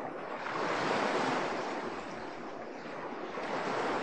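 Ocean waves at a sea of tears in the video game The Gray Garden, a continuous wash of surf with wind-like hiss, swelling gently and steady throughout with no voices.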